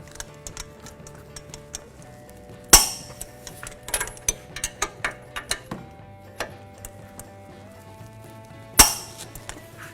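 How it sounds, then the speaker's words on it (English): A torque wrench tightens bolts to 180 foot-pounds on a 2009 Ford Escape front shock job, with two sharp metallic clicks several seconds apart among quieter ticks and clinks of tools in a quiet workshop. "Now I'm going to torque these with a torque wrench."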